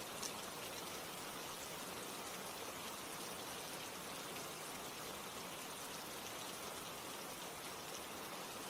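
Steady rain falls evenly throughout, a dense broadband hiss of drops with no talk and no change in intensity.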